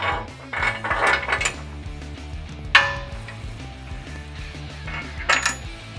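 Metal hardware for a CBI T3 skid plate install, four-inch carriage bolts, flat washers and nuts, is handled and dropped, making bright clinks and rattling jingles in several quick bursts up close.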